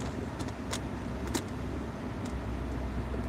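Road traffic on a Saturday evening, a constant low roadway rumble with a few brief swishes of cars passing at moderate distance.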